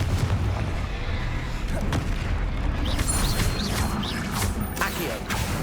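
Confringo fire spell bursting in the Hogwarts Legacy video game, a run of sharp crackling blasts and dull booms layered over a busy, constant backdrop of combat noise with no talking.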